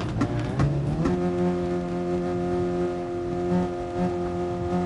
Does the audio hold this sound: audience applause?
no